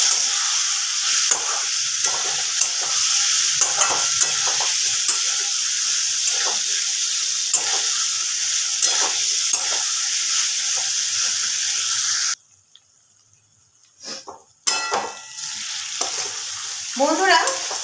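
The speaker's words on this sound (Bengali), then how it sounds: "খুব ভালোভাবে কিন্তু আলুগুলোকে মশলার সাথে মিশিয়ে নিতে হবে" Potatoes with spices are stirred in a hot pan, giving a loud steady sizzle broken by repeated scraping strokes for about twelve seconds, then near silence and a short burst of clatter and sizzle again.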